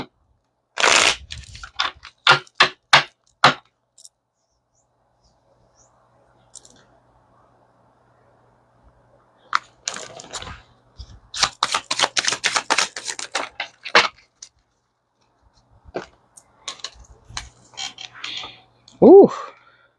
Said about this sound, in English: I'm going to pull another card. I'm going to shuffle though.